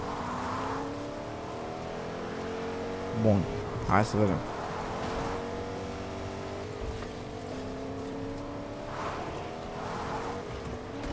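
A video game car engine in Fortnite hums steadily with rising and falling revs, a short burst of acceleration midway, and a voice speaking briefly over it.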